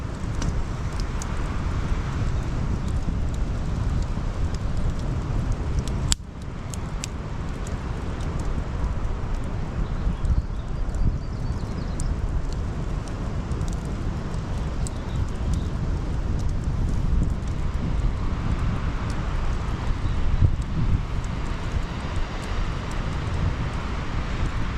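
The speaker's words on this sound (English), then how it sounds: "That wind is certainly getting up, that's for sure." Strong wind rushing steadily across a campfire spot at night, a loud, constant broadband roar with a brief dip partway through and no one speaking.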